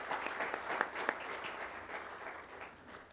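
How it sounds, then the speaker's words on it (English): An audience claps at a professional accountants' golden jubilee seminar in Riyadh, the applause fairly faint and distant, with a couple of sharper nearby claps standing out before it thins and fades. "give them a big hand of applause."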